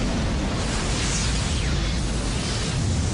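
A roaring, noise-like rumble from the explosion on the Piper Alpha oil platform in the North Sea fills the whole stretch at a steady level.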